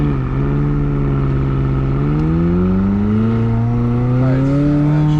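A McLaren 600LT Spider engine pulls steadily onto a track, its loud, close drone rising smoothly in pitch over several seconds as the car accelerates, with no voices over it.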